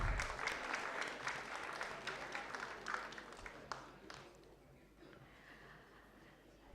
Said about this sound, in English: Please give a round of applause to ma'am.